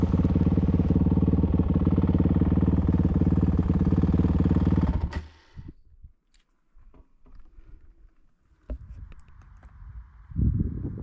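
Honda CRF 450X dirt bike engine riding in Baja, a loud close rhythmic thumping that runs steadily for about five seconds, then cuts to quiet with faint clatters before rising again briefly.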